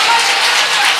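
A church congregation claps together in worship, a dense, loud wash of many hands over one short burst with no individual claps standing out.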